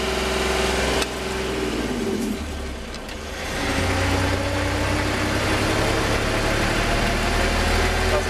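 A Magirus truck engine with an unsynchronised gearbox rumbles close by, its revs dropping and dipping during a gear change before settling back into a steady, heavy drone.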